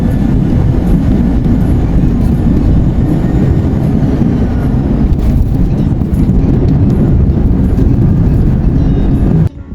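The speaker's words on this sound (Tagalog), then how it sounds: "At ito nga, pababa na aeroplano" Steady loud broadband rumble inside an airliner cabin as the plane descends toward Iloilo, a continuous engine and airflow roar with no voices, dropping off abruptly at the very end.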